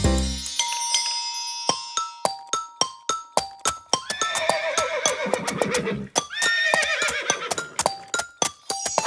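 A horse pulling a delman carriage in Indonesia whinnies loudly and close, its neigh set among rhythmic clip-clop hoofbeats and bright ringing bell-like dings.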